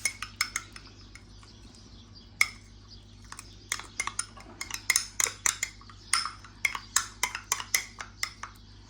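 Spoon clinking and scraping against a bowl while stirring a homemade sauce with honey, a run of quick, close, sharp clinks that grows busier and more rhythmic toward the end over a low steady hum.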